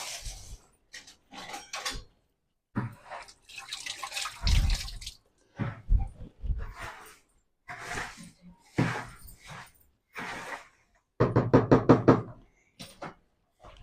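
Chuduva snack mixed with sugar is tossed and stirred in a bowl, giving bursts of dry rattling and knocking scrapes in irregular clusters with short pauses between, close up.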